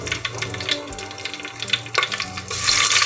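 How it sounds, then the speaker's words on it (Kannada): Onion and ginger frying in oil in a village kitchen while a fish curry is prepared, giving a steady close sizzle with scraping stirs that grows louder and brighter near the end. "ನೆಕ್ಸ್ಟ್ ನೀರುಳ್ಳಿ, ಒಂಚೂರು ಫ್ರೈ ಆವಡು."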